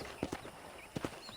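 Horse hooves clip-clopping in the Red Dead Redemption video game, two quick pairs of soft, muffled hoofbeats at a walking pace, faint and close, separated by a short pause.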